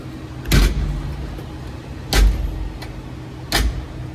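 A Massey Ferguson 1200's cab door being shut three times at roughly even intervals, each a loud, close metallic slam with a short rattle, over a constant background hum.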